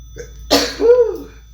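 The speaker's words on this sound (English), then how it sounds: "And I feel like I'm about to sneeze." A single sneeze, close and fairly loud, with a brief breathy build-up and a voiced tail.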